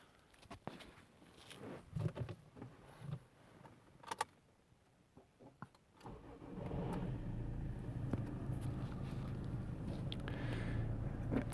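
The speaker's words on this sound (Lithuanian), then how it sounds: "reikėtų užvesti automobilį ir palikti jį dirbti tol, kol variklio temperatūra pasieks darbinę" A car engine is started and left idling to warm up toward its roughly 90-degree operating temperature. Quiet handling noises come first, then a steady, moderately loud idle hum runs unbroken through the second half.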